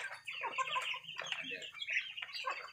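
Several free-range village chickens on a small home farm cluck and squawk close by in busy, overlapping bursts, with a faint steady hum beneath.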